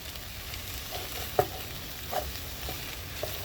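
Garlic and onions sauté in a soup pot, a soft steady sizzle with a few faint clicks of a utensil stirring, quiet and without any talk.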